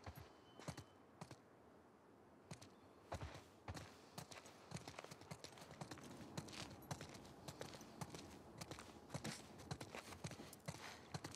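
Horse hooves clip-clop in The Last of Us Part 2 video game, a quiet, steady series of hoofbeats at walking pace with faint rustling between the strikes and no talk.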